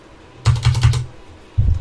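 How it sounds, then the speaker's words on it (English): Keys on a computer keyboard clatter in a quick burst of close, crisp taps, then pause before another short run of typing begins, with no voices. "start typing"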